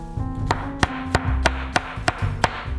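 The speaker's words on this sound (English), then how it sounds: "Whenever Sterling hears me cutting on the cutting board" Steady knife chops on a cutting board while mushrooms and onions are prepared in a home kitchen, about eight crisp evenly spaced strikes over a low background hum, close by with no talking.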